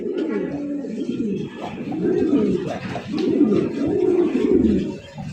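Several Shirtin pigeons on a modern farm coo continuously and close by in low, rolling, overlapping calls.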